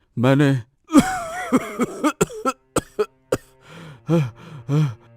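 Harsh, repeated coughing in a quick burst, close and loud, with voiced groans and gasps around it; a person speaks briefly before and after.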